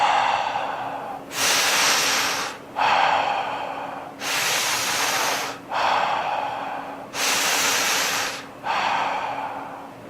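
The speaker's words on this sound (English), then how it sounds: "So breathing in and out of the mouth." Slow, connected mouth breathing with steady alternating inhales and exhales, each lasting about a second or more, close and loud in a quiet room, three full cycles with no talk.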